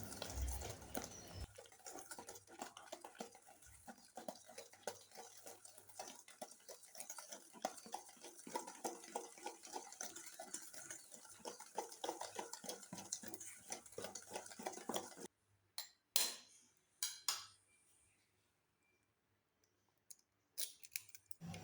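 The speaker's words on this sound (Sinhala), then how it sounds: "පළවෙනි බිත්තරේ එකතු කරලා මේ විදිහට ටික වෙලාවක් කලවම් කරගන්නවා." An egg is stirred into chocolate cupcake batter with steady, fast wet clicking and tapping strokes that go on for about fifteen seconds, then give way to a few sparse clinks and near silence, close and soft.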